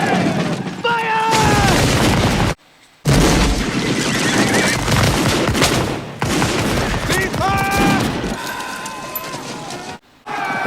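A battalion volley of rifle fire in a Civil War battle from the film Glory, dense bursts of gunfire under shouted commands and movie score, with horse whinnies, voices and brief near-silent gaps.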